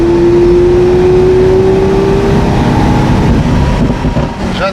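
A Lamborghini Centenario sports car drives through the desert, its engine a loud, steady drone with a faint pitch that slowly falls, continuous for the whole stretch.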